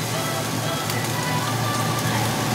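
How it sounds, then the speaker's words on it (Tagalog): Heavy rain in Manila pouring down as a loud, dense, continuous hiss that fills the whole clip, with no pauses. "Grabe, ang lakas ng ulan dito."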